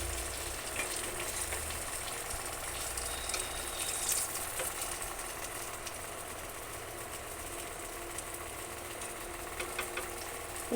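Catla fish sizzles steadily in hot oil, a continuous dense crackle with no talking.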